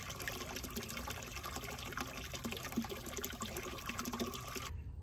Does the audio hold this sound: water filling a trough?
yes